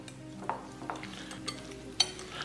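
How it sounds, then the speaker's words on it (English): A spoon stirs potato raita with onion, tomato, cilantro and green chili in a bowl, giving soft repeated scrapes and a few light taps against the side, quiet and close, with music faint underneath. "Mix it well."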